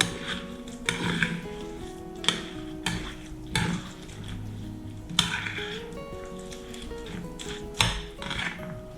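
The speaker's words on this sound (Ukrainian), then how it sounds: "Перемішую." Overnight oats are stirred with kefir in a container, a spoon clinking and scraping in uneven strokes with several sharp taps against the sides, close and fairly quiet with no voices.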